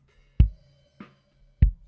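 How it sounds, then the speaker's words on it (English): A punchy kick drum being shaped for a rock mix, heard alone as three isolated thumps with deep low-end weight and a quick decay, over a faint steady hum. "So the kick will sound like this."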